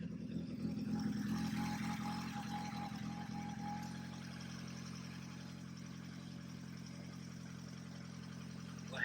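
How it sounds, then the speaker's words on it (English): Nissan Altima with 270,000 miles idling with a small exhaust gasket leak, a quiet, steady low engine hum that drones on evenly with no revving. "There's a little gasket, a little exhaust leak."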